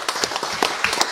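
Audience at a public hearing in the Minas Gerais legislative assembly clapping, a short burst of brisk, fairly close handclaps in an uneven rhythm.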